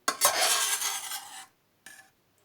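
A spoon scrapes and rasps against the inside of a metal pot of cubed zucchini for over a second, then after a pause one shorter scoop follows.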